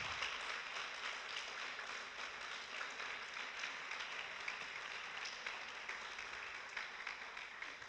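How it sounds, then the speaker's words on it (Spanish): A congregation applauding during a Spanish-language church service: dense, continuous clapping that holds at an even level throughout, sounding somewhat distant and filling the room. "Le vas a dar un aplauso al Señor, dalo fuerte"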